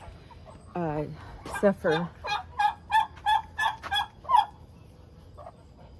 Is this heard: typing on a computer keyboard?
no